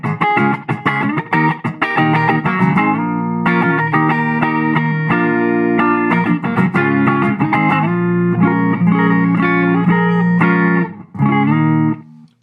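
An electric guitar plays through an Ibanez DE7 delay/echo pedal on its delay setting. A steady run of chords and notes has repeats trailing behind each strum, and there is a brief gap near the end.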